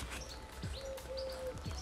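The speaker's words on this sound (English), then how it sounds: "Oh, like birds and stuff." Small birds chirp and tweet with several short calls and one sustained whistled note, heard in the open air around an abandoned old rectory care home with a low background hum.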